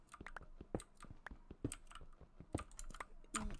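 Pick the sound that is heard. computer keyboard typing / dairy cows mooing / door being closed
computer keyboard typing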